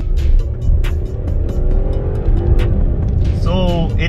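A 2021 Changan CS95 SUV with a 6-speed automatic is floored from cruising speed. The engine's loud, steady drone climbs throughout the run, and a voice talks over it.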